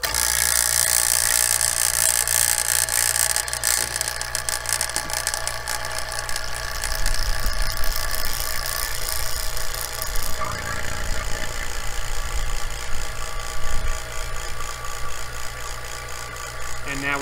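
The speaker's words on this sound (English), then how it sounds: "Turn the vacuum pump on now." An HVAC vacuum pump makes a loud, steady mechanical drone with a rattling, buzzing motor hum that runs continuously without pause, close and harsh.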